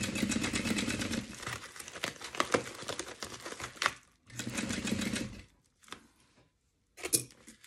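A sewing machine stitches fabric lining for a storage cubby made from a bubble mailer, running in two loud bursts of rapid stitching with short pauses and fabric handling between them.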